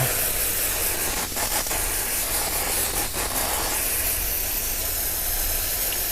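Water sprays from a hose to rinse dust off an air conditioner filter, a continuous loud hiss that holds steady throughout.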